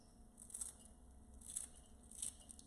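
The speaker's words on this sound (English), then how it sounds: "I just take my kitchen scissors and I" Kitchen scissors snip through stalks of lemongrass, trimming them into small pieces: three crisp, quiet cuts spaced evenly about a second apart, close to the ear over a faint low room hum.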